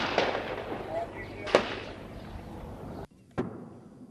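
Artillery fire during military operations against a headquarters in an urban neighborhood: sharp blasts, one loud near crack midway and another after a brief drop-out, over a steady rumbling background with a voice talking beneath.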